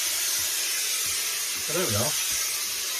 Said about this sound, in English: introduce some steam out of your iron just over the brim here